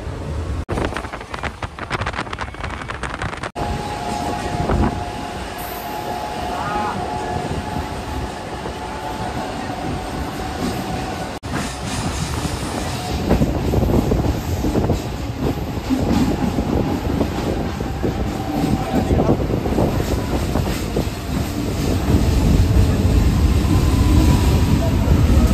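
A Howrah–Digha local train runs steadily past Raghunathbari, a loud continuous rumble of wheels and carriages with wind buffeting the microphone throughout, growing heavier toward the end.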